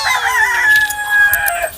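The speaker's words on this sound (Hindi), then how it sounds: "भैया अरुण भैया लेके आ रहे हैं मुर्गा।" A rooster crows once in a close, loud, drawn-out call with a falling tail, standing alone over a faint low background with no talking.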